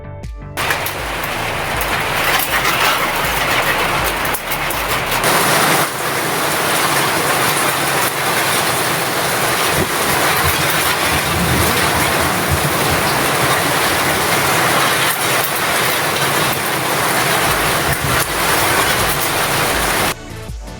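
Heavy rain pouring at night onto sheet-metal roofing, a dense, loud, unbroken hiss and drumming that continues for the whole stretch.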